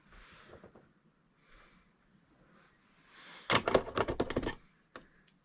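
Scissors cut through the ribbon of a Valentine's garland in a quick cluster of crisp, close snips, after a few seconds of soft handling rustle.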